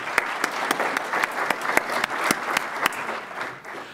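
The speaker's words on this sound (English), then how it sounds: "So let's give a round of applause to them as well." A keynote audience claps steadily for several seconds, dense applause with sharp individual claps standing out, no voices over it.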